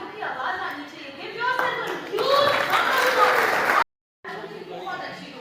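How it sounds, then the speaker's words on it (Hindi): Audience clapping at a YouTube creator event in Surat, India, a broad, loud wash of applause rising under a speaking voice, cutting off abruptly before talking resumes alone. "थोड़ी तालियों की आवाज आनी चाहिए"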